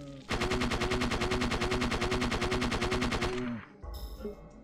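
Rapid automatic gunfire rattles steadily for about three seconds in the video game Parasite Eve II, loud and evenly spaced, then stops, leaving a brief quieter game sound.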